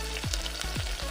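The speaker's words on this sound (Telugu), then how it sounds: "ఇది బాగా ఫ్రై అవనివ్వాలి." Chopped medium onion frying in a pan with chicken while making a chicken burger, a steady sizzle broken by a few soft stirring scrapes, close and without talk.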